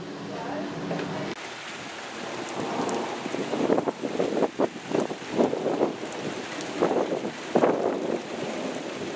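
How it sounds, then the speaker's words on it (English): Pouring rainstorm with thunder: a constant hiss of heavy rain with low rolling rumbles swelling and fading in bursts, heard alone without talk. "Can you hear that thunder?"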